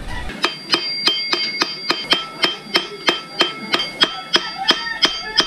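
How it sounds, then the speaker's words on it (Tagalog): Sharp metallic hammer strikes on a rusty motorcycle bolt ring out in a steady rhythm, about sixteen hard clanging blows in quick succession, loud and close. "pinupukpok natin yung tornilyo para kumalas siya dun sa pagkakakalawang niya"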